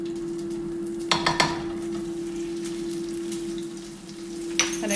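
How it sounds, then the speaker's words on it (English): A keto crab cake sizzles softly in hot oil in a pan, a faint steady hiss under a constant hum, broken by a couple of short clatters and scrapes. "You can hear a little bit of sizzle"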